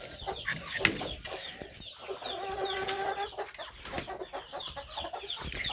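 Chickens clucking and murmuring on a hot Philippine farm, hens brooding nearby, with steady overlapping clucks and soft calls at close range and no talk.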